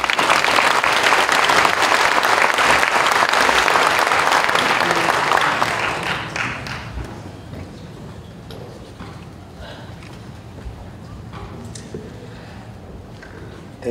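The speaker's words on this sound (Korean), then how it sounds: "나오실 때 힘찬 박수로 환영하시겠습니다." Audience applause welcoming a speaker at a Korean Presbyterian Day church event, loud sustained clapping from a large crowd for about six seconds, then fading away into quiet room tone.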